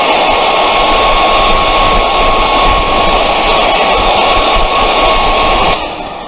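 Steady, loud hair dryer airflow drying paint on a country-style painted piece, a close continuous rushing hiss that holds for several seconds before cutting off near the end, with no one talking.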